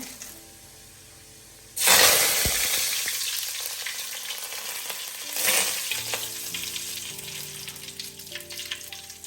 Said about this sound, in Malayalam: 2 ടേബിൾ സ്പൂൺ കടുക്, കറിവേപ്പില ഇടുകയാണ്.